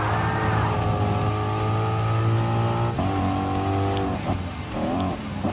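Race car engines in Gran Turismo Sport during a race with Renault Sport Meganes chasing a Ford Mustang, with loud sustained engine tones that rise, hold and shift as the cars accelerate and change gear.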